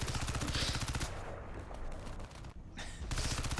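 Rapid automatic gunfire in Crysis 3 multiplayer on PC, with loud dense bursts that stop mid-clip, give way to softer scattered noise, and then resume sharply.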